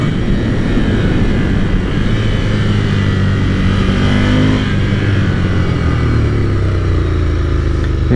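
A Ducati Scrambler Cafe Racer motorcycle's engine runs loud and close while riding slowly through a corner, a steady rumbling drone whose pitch sags and then climbs again as the rider eases off and accelerates.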